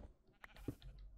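A single short sheep bleat from Minecraft, faint and brief, over a quiet background.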